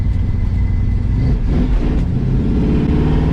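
A 1967 Ford Mustang GT390 with a V8 drones loudly and steadily from inside the car while driving on the road, its engine swelling slightly as it revs.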